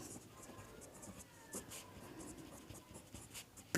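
Pen or pencil scratching across paper while a Class 10 polynomial math problem is written out, a quiet continuous writing rustle with small strokes and taps, heard alone and close.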